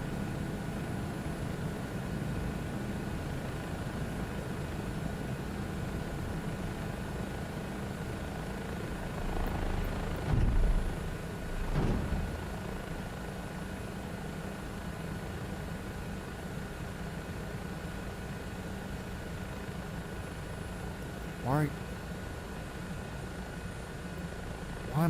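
Helicopter in Microsoft Flight Simulator, a continuous rotor and turbine drone with a steady low hum and high whine, holding for a long stretch, with a few brief thumps and clicks partway through and no talk over it.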